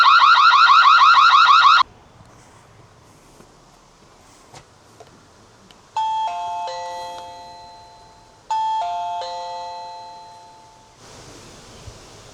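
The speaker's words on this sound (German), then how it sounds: "geht ein Alarm los, der richtig laut ist und sich nur über die App stoppen lässt" A video doorbell's camera tamper alarm: a loud electronic warbling siren blares for about two seconds, then two bursts of bright chiming beeps sound, each several seconds long, in a quiet room.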